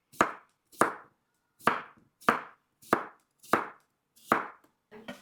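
A knife slices fresh cucumbers on a cutting board into pieces about a chopstick-tip thick, landing seven crisp, evenly spaced chops up close with silence between them.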